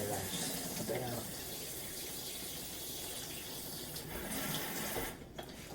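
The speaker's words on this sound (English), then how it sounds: "you put a little bit of water in here and swish it around." Water is swished around inside a crockpot, a steady sloshing, rushing wash that runs continuously and close, with a faint voice in the background.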